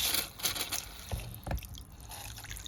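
Water is poured into a pet lizard's bowl, a faint, uneven run of splashes and drips in a quiet indoor setting.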